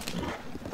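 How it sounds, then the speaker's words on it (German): Horse hooves clip-clopping in Zelda: Tears of the Kingdom, a brief, soft run of rhythmic hoofbeats. "zurück auf unser treues Pferd und weiter geht's."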